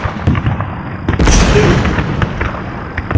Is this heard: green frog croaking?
no